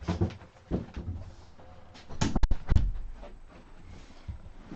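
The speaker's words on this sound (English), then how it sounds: "Didn't quite get the door shut." A door is pushed shut with a cluster of sharp knocks and a thud partway through, amid quieter shuffling handling noise in a room.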